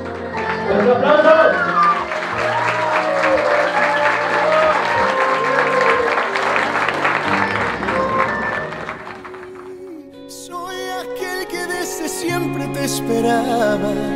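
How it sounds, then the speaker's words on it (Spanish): Guests at a wedding break into loud, sustained applause just after a toast, with cheering voices mixed in. Partway through, the clapping fades out and music takes over. "¡Un aplauso!"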